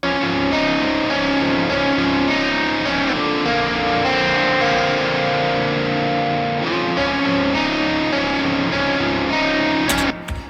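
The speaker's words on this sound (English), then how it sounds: "So it was kind of based on a lead guitar with a lot of reverb." An electric lead guitar rings out sustained notes drenched in long reverb, a thick continuous wash that cuts off abruptly at the end.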